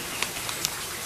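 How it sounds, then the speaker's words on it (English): Rain falls in a Georgia backyard, a soft even hiss with a few sharper drop taps, quiet and steady. "The rain just came in and stopped my plans."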